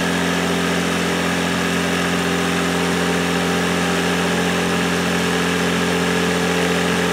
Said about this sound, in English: there's the high pressure pump that's kicked in now